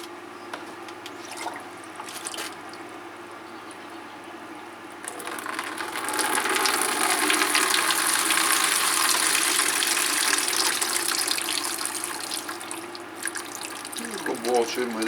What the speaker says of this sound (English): I'll be adding a little bit of hot water to that and the calcium nitrate